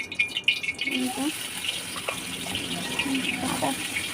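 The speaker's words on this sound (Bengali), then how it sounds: "এখানে পানি জমে গেছিল না, এই পানিটা একটু দিয়ে দিলাম" Water collected in a container is poured into a cooking pan holding onion paste, making a light, uneven splashing trickle while someone talks over it.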